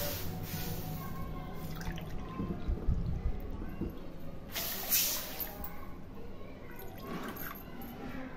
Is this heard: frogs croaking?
no